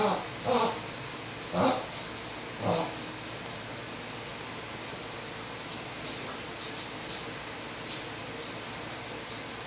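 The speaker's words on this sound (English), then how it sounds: "my dog is coughing again" A pet dog coughs indoors in several short, hoarse bursts spaced a second or so apart, then fainter ones, over a steady background hiss.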